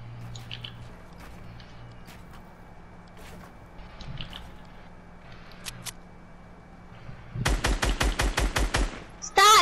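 Rapid video game gunfire shooting down a building, a tight burst of about ten loud shots near the end, after quiet clicks and faint background sounds.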